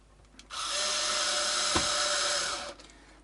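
Cordless power screwdriver set to minimum torque, driving fixing screws into an Epiphone Sheraton guitar; a steady, close whirring burst lasting about two seconds, preceded and followed by quiet.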